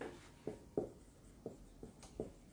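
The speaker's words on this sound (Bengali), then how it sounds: "আমি লিখে দিচ্ছি" Chalk or marker writing on a board during a general knowledge lesson, five or six short scratchy strokes spaced irregularly, faint and close in a quiet room with no talking.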